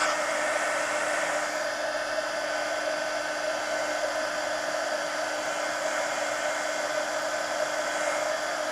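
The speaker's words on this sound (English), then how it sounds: "Let me hit this with the heat gun." A heat gun blows steadily over a mixed media art journal page, a loud, continuous airy whine and hum held for the whole stretch, with no talking.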